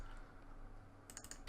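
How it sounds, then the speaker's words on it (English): A few computer keyboard keys are pressed near the end, quick clicks over faint background noise in a 3D modelling tutorial on rigging a bouncing ball. "press G on your keyboard to repeat the last action"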